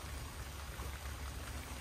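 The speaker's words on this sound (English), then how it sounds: "Now it's turning into rain again." Steady rain falls outdoors in the cold, a soft continuous hiss and patter of drops with no voices over it.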